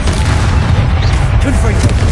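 An Expulso spell blast in Hogwarts Legacy sets off a heavy booming explosion that rolls on as dense low rumble, loud and sustained, with voices speaking over it.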